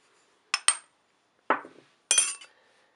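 Sugar, salt and crushed Sichuan pepper are mixed in a bowl, giving four sharp close clinks and scrapes in quick succession with silence between, no talk.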